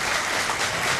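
A bowling crowd at Rollin' Thunder applauds and cheers in a dense, loud, continuous burst of clapping, heard briefly and close.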